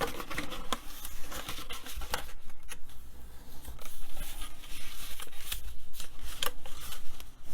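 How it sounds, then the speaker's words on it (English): Bone folder pressed and drawn along paper creases on a Stampin' Up! gift box, producing a steady run of close rustling, swishing and scraping strokes with no voices. "And then I'm going to reinforce them with the bone folder."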